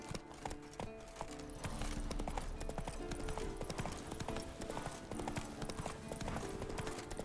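Steady clip-clop of horse hooves at a brisk gait in The Witcher 3, loud and close, continuing throughout with a faint whinny-like tone.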